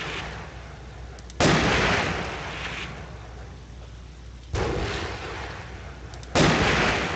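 Loud bursts of video game gunfire from a military shooter, three heavy blasts a couple of seconds apart, each followed by a long rumbling decay that fills the space between shots.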